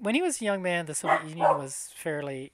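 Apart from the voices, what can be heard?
dog barking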